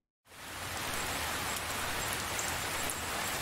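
Light drizzling rain falling over a city street at dusk, a soft, even hiss that fades in quickly and then holds steady on its own.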